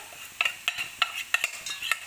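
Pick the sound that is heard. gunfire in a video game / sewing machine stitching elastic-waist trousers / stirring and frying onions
stirring and frying onions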